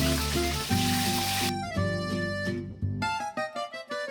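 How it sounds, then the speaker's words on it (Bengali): Duck eggs fry in hot mustard oil with salt in a pan. A dense, close sizzle fills the opening second and a half, then drops back beneath steady melodic tones. "আমি ডিমগুলোকে আলটা করে একটু ভেজে নেব।"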